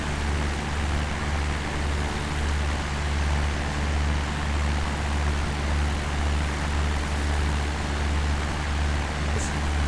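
Steady, droning engine hum of a light aircraft in flight over the town of Caernarfon and the Menai Straits, North Wales, heard from inside the cabin, loud and constant throughout.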